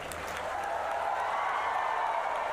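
A convocation audience at a Bengaluru campus applauds graduates, a continuous wash of crowd clapping holding steady and full for the whole stretch.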